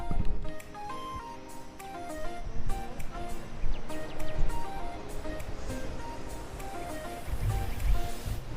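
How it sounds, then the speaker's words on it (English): The steady broadband rush of water at Barak Waterfall fills the scene, with faint background sounds and a few scattered clicks on top of the continuous roar. "I think you can hear the sound of the water."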